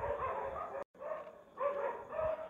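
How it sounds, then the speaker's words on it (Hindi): Dogs bark at night in a village, faint and distant, a string of muffled barks blending into a steady outdoor hiss with a brief dropout partway through; no one speaks. "गांव में कुत्तों की कुछ आवाज़ आ रही"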